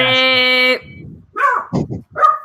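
Dogs barking indoors in response to a sound they mistook for the doorbell: a steady tonal beep comes first, then three or four short, sharp barks in a quick cluster close by.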